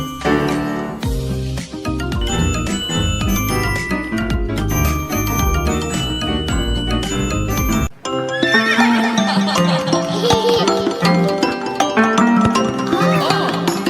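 Horse neighs and whinnies ring out within a loud, busy children's song with bells and clip-clop rhythms, the music changing character partway through.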